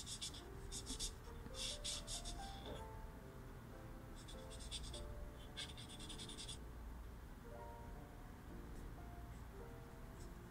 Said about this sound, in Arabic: خلص الرسمة، نبدأ نلونها